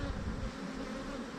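Honey bees buzz steadily and close by in a beeyard, a dense continuous drone that swells loudly at the start and then settles into a constant hum, with no voices.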